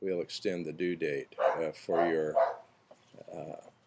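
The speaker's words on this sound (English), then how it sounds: "sorry for the barking dog over at the neighbor's house" A neighbor's dog barks in short bursts somewhere off to the side, the yaps coming under and between a nearby voice talking steadily.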